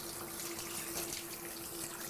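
Water from a tap runs steadily and close by while a special-needs dog's ear is rinsed during a bath, a continuous broadband splash with no voices.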